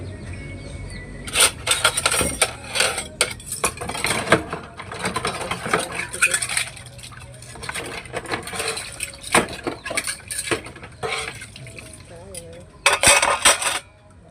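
Dishes and plates are washed by hand with water, with steady clinking of plates and cutlery, splashing and running water close by, and brief, faint talk at moments.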